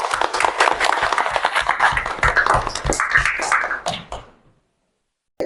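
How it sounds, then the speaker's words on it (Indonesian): A school class in an Islamic religious education lesson breaks into applause, a dense patter of many hands clapping close by for about four seconds before stopping abruptly into silence. "Berikan tepuk tangan."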